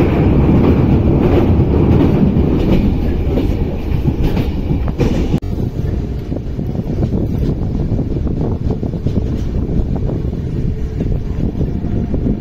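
A Radhikapur DEMU intercity express local train runs steadily on the rails, a loud, continuous rumble with rhythmic clickety-clack and wind buffeting heard from on board, with no talking.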